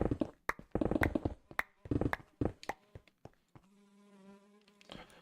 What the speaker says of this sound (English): It sounds like there's actually a mosquito in my ear every time they get by me.